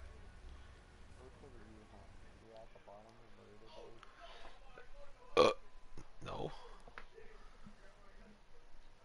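A single loud burp bursts out midway, surrounded by casual chatter from players just after a World War II ranked match.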